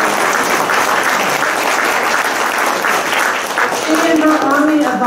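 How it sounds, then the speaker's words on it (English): Loud, dense applause from a symposium audience honoring an organizer, steady clapping throughout, with a voice starting to speak over it near the end. "Let's give Carol a round of applause for another fabulous year."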